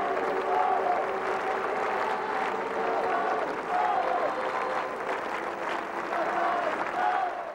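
A large crowd applauds at Pope John Paul II's funeral, sustained dense clapping with rising and falling swells and scattered voices in the crowd throughout.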